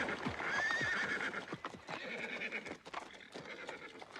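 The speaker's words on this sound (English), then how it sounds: "As the horses went faster, I closed my eyes in fear." Horses pulling a carriage at speed, with clattering hooves and a sharp neigh near the start, followed by uneven hoofbeats that continue throughout at moderate volume.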